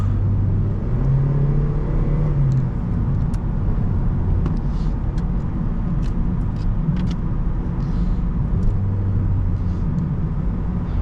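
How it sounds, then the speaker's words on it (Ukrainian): A Honda Civic 8 with an automatic gearbox accelerates out of a bend at around 3000 rpm. Its engine gives a loud, steady drone and rumble that runs without a break throughout, with no talking. "Ми натискаємо і ми, в принципі, одразу поїхали, не дивлячись на те, що у нас автоматична коробка."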